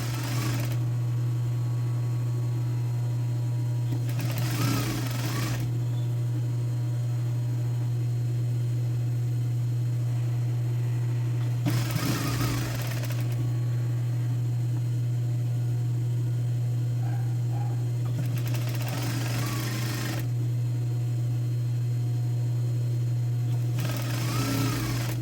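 Sewing machine running a seam on a women's blouse at a 1 cm allowance, a loud steady hum held for long stretches, with brief louder bursts roughly every eight seconds.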